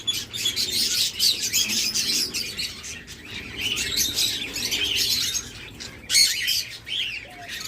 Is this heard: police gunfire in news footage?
no